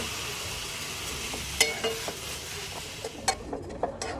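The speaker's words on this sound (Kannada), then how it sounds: "ಸ್ವಲ್ಪ ಹಾಲು ಹಾಕಿ ಸ್ವಲ್ಪ ರೋಸ್ಟ್ ಮಾಡ್ಕೊಳ್ಳೋಣ" Milk sizzles in a hot pan while being roasted for a dry sweet, a steady frying hiss broken by a few sharp clinks and scrapes of a utensil against the pan.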